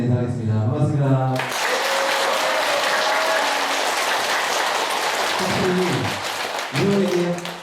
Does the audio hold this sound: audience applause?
yes